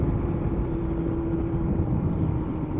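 Kawasaki ZX-7R sportsbike engine running steadily and fairly close, a continuous droning hum with a faint whir and no voices over it.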